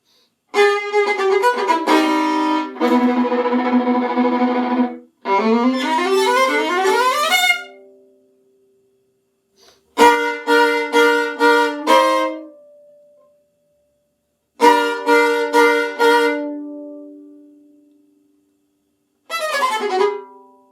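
A viola plays a solo orchestral excerpt in separate phrases, with quick runs and sustained notes, clear and close, pausing to silence between phrases.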